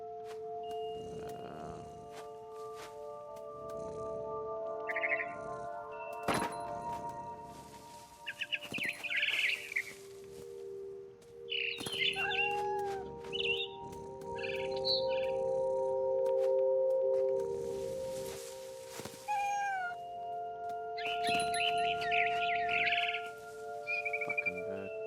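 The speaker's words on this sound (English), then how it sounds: "Then I heard chirping outside my window. It was a barn swallow going back to her nest." Barn swallow chirping outside a window in What Remains of Edith Finch, heard as repeated short clusters of bright twittering calls spread over the stretch, with sharp clicks and a sustained low ambient tone underneath.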